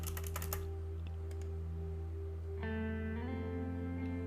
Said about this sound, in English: Enter your password as well.